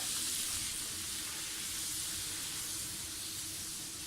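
Poori frying in hot oil gives a steady, close, loud sizzle with bright hissing. It holds even throughout, with no voices.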